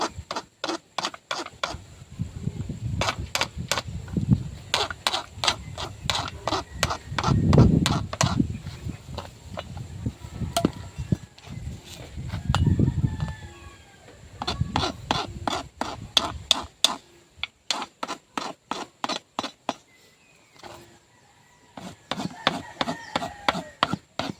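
Hoof trimming on a draft horse used for pulling, done with a nail-cutter-like cutting tool: a long run of sharp, rapid clipping and scraping strokes in bursts, close and fairly loud, with a few pauses.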